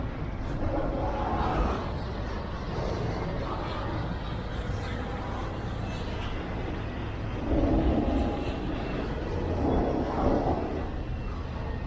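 A steady low rumble of a passing train in Canada between Montreal and Toronto, continuous and moderately distant, with faint swells of noise rising and falling along its length.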